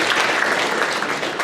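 A convention panel audience claps in a dense, continuous burst of applause, fairly loud and without talking.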